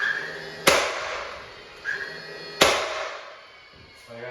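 A pneumatic nail gun fires nails into wooden window trim during installation, three sharp cracks spaced a second or so apart, each with a short hiss of air, fairly close with no talking.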